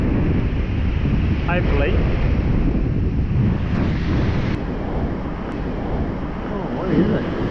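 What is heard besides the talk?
wind blowing on a beach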